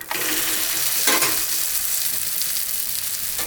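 Wheat roti frying on a pan with a light drizzle of oil around the edges, giving a steady close hiss and crackle that swells briefly near the start and then settles into an even sizzle, with no talking.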